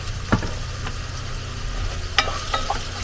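Garlic fries in a pan in a van kitchen, with a constant close sizzle broken by a few sharp scrapes and taps of a utensil.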